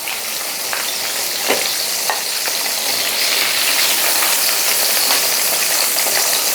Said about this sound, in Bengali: তেলের মধ্যে দিয়ে 1-2 মিনিট ভাজলেই চিংড়ি মাছ ভাজা